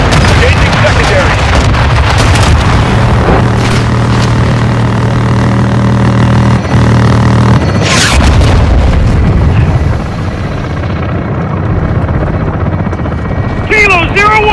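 An air support gun strike in Call of Duty: Modern Warfare 2 (2022): a loud, constant helicopter rotor roar with heavy booming impacts and one sharp blast midway. Radio voices talk over it.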